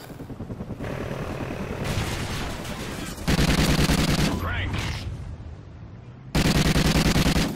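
Sustained video game gunfire in bursts, with automatic weapon fire in dense rapid volleys that intensify in loud stretches, with a brief engine-like whine in the middle and a faint voice underneath.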